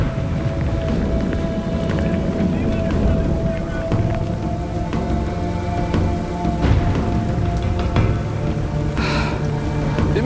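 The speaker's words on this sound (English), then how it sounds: "Now it's starting to get heavier and heavier rain" Heavy rain pours steadily during a storm, a dense unbroken hiss with a few louder bursts and faint rumbles, heard close and continuous without clear talk.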